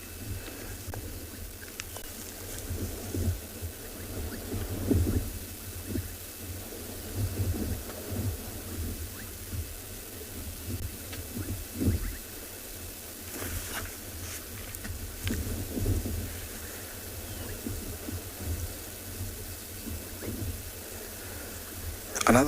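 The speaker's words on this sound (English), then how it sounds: "the rain is coming" Rain and rumbling thunder during an evening safari drive in the Tswalu Kalahari reserve, a steady wash of rainfall with low rolls of thunder swelling now and then, at moderate distance throughout.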